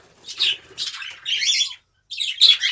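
Pet budgerigars in an indoor aviary during the breeding season chirp close by in loud, rapid warbling bursts, four chattering phrases separated by brief pauses.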